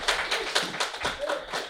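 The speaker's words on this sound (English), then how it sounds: "Big round of applause." Audience applause at a parish gathering for a speaker leaving the stage: a short burst of brisk clapping from a modest crowd, close and fairly loud, with scattered individual claps and faint voices mixed in.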